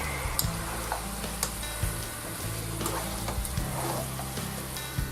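Fried chicken with a five-spice blend sizzles steadily in hot oil in a pan, a continuous close crackle dotted with small pops and occasional stirring scrapes.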